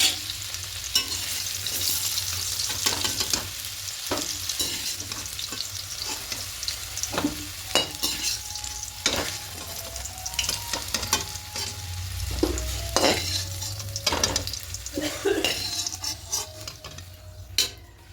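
Potato pieces fry in hot oil until browned for a cauliflower curry, a steady crackling sizzle with frequent clinks and scrapes of a spatula stirring against the pan, close and continuous, with no talking.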